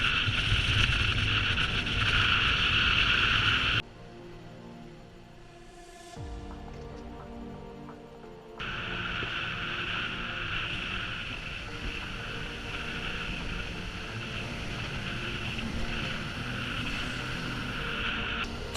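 Steady engine drone and rushing water from a large motor boat running through the Horizontal Falls in the Kimberley, loud and continuous, briefly dropping to a quieter rumble before the noise returns.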